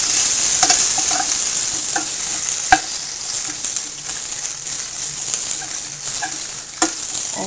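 Chopped onion, green chili, ginger and garlic stir-fry in a pan with a constant close sizzle, punctuated by sharp spatula scrapes and clicks, and no talk.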